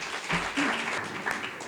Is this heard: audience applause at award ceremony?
yes